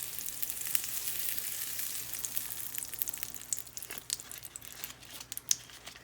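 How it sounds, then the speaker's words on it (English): Butter sizzles steadily in a hot pan while pancakes are being made, a dense continuous frying hiss with a few small crackles and pops, close and alone with no talk. "as you can hear the sizzling sound, my pan is ready to go"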